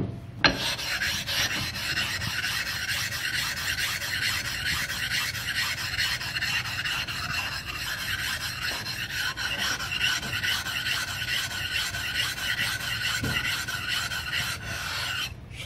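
Two coarse whetstones rubbed against each other to flatten a sharpening surface, giving a steady, loud gritty rasping scrape that runs throughout with brief clacks near the start and end.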